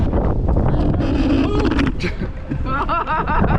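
Steady low wind rumble buffets the microphone throughout at Six Flags Over Texas theme park, with a voice speaking over it.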